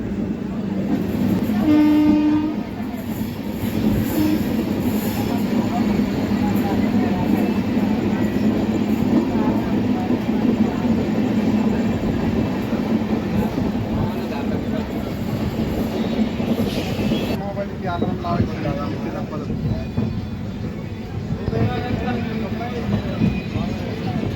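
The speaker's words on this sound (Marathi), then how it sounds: "मुंबई सोलापूर वंदे भारत एक्सप्रेस" The Mumbai–Solapur Vande Bharat Express rumbles past at speed with a steady, heavy roar and a short horn blast early on, with muffled murmur in the background.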